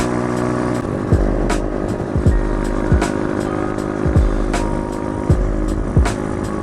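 An Icebear Champion 125, a CT70 clone fitted with new rear shocks, cruises steadily at about 45 mph in traffic. Its engine drones continuously and loudly, with wind rushing throughout and a few brief bumps.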